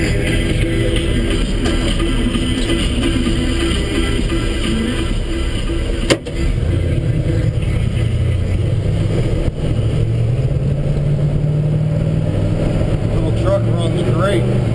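A 1963 Chevrolet C10 pickup truck engine hums and drones steadily while driving, close and continuous with rising pitch near the end, with a couple of sharp clicks along the way.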